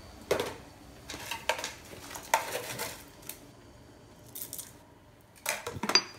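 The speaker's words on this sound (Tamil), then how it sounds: "ஏலக்காய் கொஞ்சம் நசுக்கி வச்சுக்கலாம்" Sharp clicking and cracking knocks at an uneven rhythm, close by and fairly quiet, as cardamom pods are crushed with a hard utensil.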